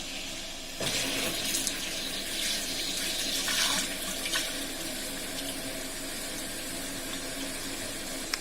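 Water running from a kitchen faucet into the sink after a repipe for rusty water, starting abruptly near the beginning as a steady splashing hiss with swirling surges, close and moderately loud, with no talking.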